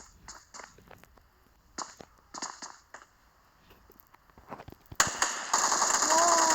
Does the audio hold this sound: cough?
no